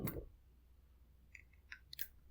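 Someone bites into overcooked, overly hard takoyaki, giving a solid first crunch and then a few faint, sparse crackling chews in a quiet room.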